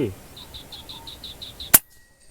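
An FX Impact air rifle fires an 18 grain pellet with a single sharp crack near the end, preceded by a faint rhythmic high ticking and a short voice at the very start.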